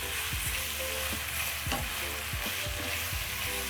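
Tomatoes frying in a pot with a dense, close sizzle and repeated spoon stirs and scrapes against the pot, continuous and alone without speech.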